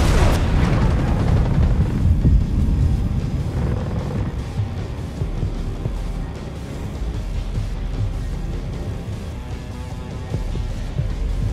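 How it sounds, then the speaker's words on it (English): A grenade going off in Ghost Recon Breakpoint: a loud boom at the start that rolls into a long rumbling decay and lingering low noise. "Grenade."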